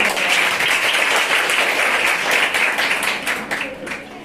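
An audience at a health and hygiene awareness program at a girls' school applauds loudly, with dense, continuous clapping sustained throughout that thins slightly near the end, and faint voices underneath.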